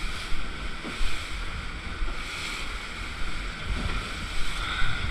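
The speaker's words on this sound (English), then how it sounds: "It's going to be some waves coming through" Waves and surf roll steadily around a boat making a river-mouth bar crossing on a running-out tide off the NSW north coast, a continuous broad wash with gusty wind noise on the microphone and a few stronger surges.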